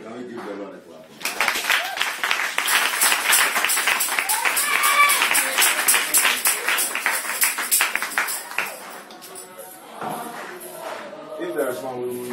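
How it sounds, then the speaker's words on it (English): A church congregation breaks into clapping for about eight seconds, a busy mix of claps with voices and cheers over it, then fades back to a speaker's voice. "Can we give the Lord a clap?"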